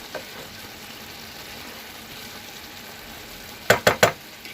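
A pot of kushka made with basmati rice being stirred as it cooks, with a steady sizzle and three sharp scraping clinks of the spoon against the pot near the end.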